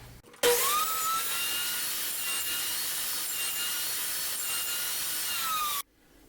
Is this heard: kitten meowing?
no